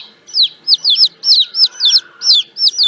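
Baby chicks cheeping in a rapid series of high, bright peeps, about a dozen short calls in quick succession, loud and close with no talking.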